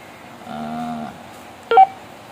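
Key beeps from a Motorola GP338 two-way radio: a steady half-second electronic tone, then after a pause a short, louder double chirp, close and clear against quiet room hiss.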